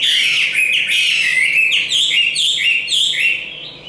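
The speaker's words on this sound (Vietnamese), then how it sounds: "Đấy, hót xòe rất đẹp, múa cánh, bộ to hót xòe múa cánh" A large Chinese hwamei songbird, over 70 grams, sings a loud, close, continuous run of bright whistled and chirping phrases with rapid pitch sweeps, heard alone without talk.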